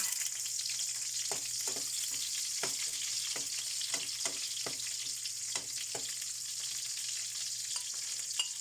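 Onion and garlic fry in a pan with a steady, close sizzle, broken by a series of sharp clinks and scrapes from stirring at irregular intervals; no one talks.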